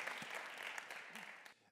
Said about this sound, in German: nochmal einen großen Applaus für Thomas Kronschläger, meine Damen und Herren